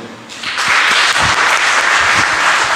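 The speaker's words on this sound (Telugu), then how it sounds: "క్లాప్స్ కొడదాం." A church audience during a Telugu Lenten sermon on forgiveness bursts into loud, sustained applause, a dense wash of many hands clapping together after a quieter start.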